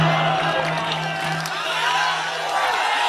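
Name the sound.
loud applause from audience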